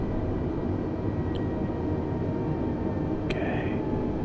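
An airliner's engines hum in a flight simulator game as the plane descends on approach at sunset, a steady low drone with a few faint clicks and a brief chime, no voices.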